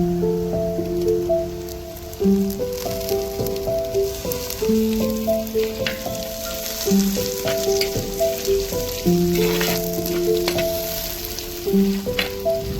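Kudampuli (Malabar tamarind) sautéing in oil for a kingfish head curry, giving a steady, close sizzle that runs throughout beneath a melodic music track, with no talking.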